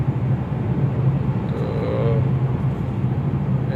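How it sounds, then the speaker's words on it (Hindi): Car speeding along a city road at night in Lahore, a steady broadband rush of engine and tyre noise that stays loud and close throughout, with faint voices underneath. "तो बड़ी ज़बरदस्त स्पीड से गाड़ी लेके जा रहा है बंदा"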